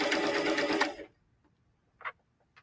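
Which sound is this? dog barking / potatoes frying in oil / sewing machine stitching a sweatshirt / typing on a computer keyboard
sewing machine stitching a sweatshirt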